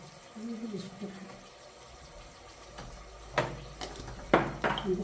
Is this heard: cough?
no